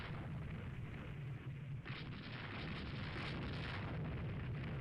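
Torpedo bomber attack explosions in the naval game Rule the Waves 3 form a continuous loud, dense roar of blasts and rumbling booms with no pauses.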